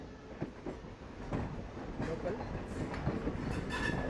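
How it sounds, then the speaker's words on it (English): An electric multiple unit train on Southern Railway in India rolls past at moderate distance, a steady rumble with faint wheel clatter and occasional clicks building slightly over the four seconds. "Here is a electrical multiple unit."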